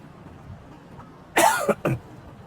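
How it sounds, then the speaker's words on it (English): A man coughs twice in quick succession, close and sharp, out on a city walking street with faint background ambience before and after. "I hope I recover from my cough real soon"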